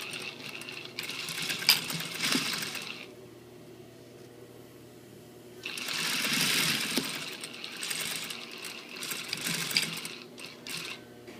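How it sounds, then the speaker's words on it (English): A sewing machine stitches a zipper onto a trouser fly shield, running in two sustained close whirring bursts with a quieter pause between, and no talking. "We're leaving about a 1/4 inch between the tape and the shield, and we're going to stitch"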